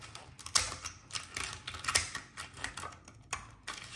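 Meat shears cut straight up the middle of a lobster tail shell, making a series of close, crisp, irregular snips and cracking clicks at moderate volume with no talking.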